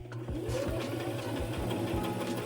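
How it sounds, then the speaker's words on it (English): Sewing machine running a continuous zigzag stitch down a flannel shirt, a steady mechanical whir with rapid regular needle thumps, close and moderately loud with no talking. "do a zigzag stitch all the way down. All the way down till you get to the other side."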